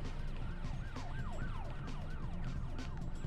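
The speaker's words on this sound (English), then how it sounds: "What was that, a cop siren?" A wailing police-style siren in the video game PixelJunk Shooter Ultimate, sweeping up and down in quick repeated cycles over a dense game soundscape, loud and continuous throughout.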